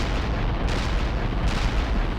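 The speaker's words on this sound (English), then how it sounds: "Our barrage hit the target." Artillery barrage striking a target in the real-time strategy game World in Conflict, a loud continuous roar of blasts and rumbling impacts sustained throughout with no pause.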